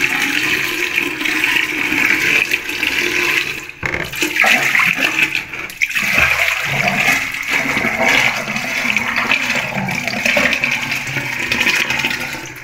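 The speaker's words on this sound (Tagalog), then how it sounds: "ipubuhos natin itong isang timbang tubig" A bucket of water is poured into a floor drain being checked for a clog, producing a loud, sustained rushing and gurgling wash of water that runs continuously for the whole stretch with a brief dip partway through.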